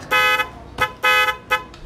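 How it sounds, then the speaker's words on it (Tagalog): An electronic horn switched by a relay interrupter blares in sharp interrupted bursts, two long blasts each followed by a short one, loud and close. "Ganito ang tunog niyan."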